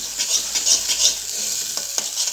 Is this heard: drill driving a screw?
no